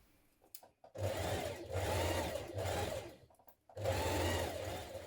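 A sewing machine stitches the side seams of a 1970s vintage wrap dress with a 1.5 centimetre seam allowance, running in four steady bursts with short pauses between them, close and loud with no talk.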